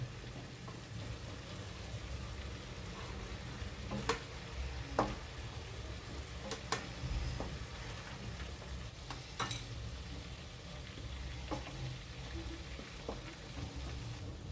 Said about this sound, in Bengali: পনিরগুলো হালকা করে ভেজে নিয়েছি।